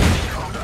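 Grenade explosions in a video game, a short, loud burst of booming blasts that decays quickly into a rumbling tail.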